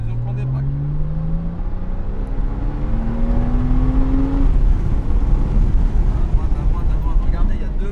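Porsche Cayman S on a track-driving course pulling away as the clutch is released, engine note rising in pitch as it accelerates from inside the cabin, then a loud sustained roar, with an instructor talking over it.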